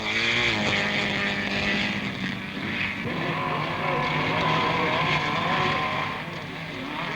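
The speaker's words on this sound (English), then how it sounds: "The Spitfire brushes by." Triumph Spitfire sports car brushing past at a 1970s autocross, a loud, steady engine roar with shifting harmonic tones as it sweeps by near the listener, dipping slightly midway then surging again.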